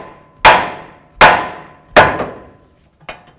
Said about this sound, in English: Now we're gonna bonk right here on the knuckle